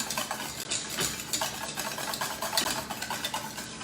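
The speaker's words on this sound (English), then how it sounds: "Stir this up a little bit more." Spoon scraping and stirring a thick cooked cake filling in a pot off the heat, with steady close scraping strokes and faint clinks throughout.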